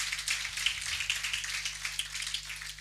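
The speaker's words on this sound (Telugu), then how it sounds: "ఒకసారి వారిని బట్టి చప్పట్లు కొట్టి వారిని ఆహ్వానిస్తాం" A church congregation claps steadily to welcome ministers at a ninth anniversary meeting of Lebanon Church Ministries in Nadergul, a dense, slightly distant patter of many hands continuing throughout over a low electrical hum.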